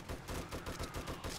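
Rapid machine gun fire in the zombie survival game 7 Days To Die, a dense rattling burst of evenly spaced shots lasting the whole short moment, fairly loud with no talk.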